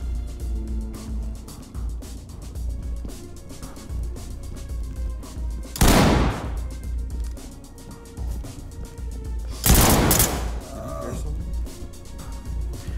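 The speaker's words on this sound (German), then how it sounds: "Alter, wie schießen die denn, ey?" Two sharp, loud gunshots crack several seconds apart during a tactical police mission in the shooter game Ready or Not, standing out over a continuous busy background of game sounds.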